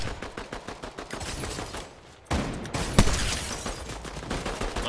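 Rapid bursts of gunfire crackle through a video game shootout, dense repeated shots with a louder blast near the middle and steady firing after.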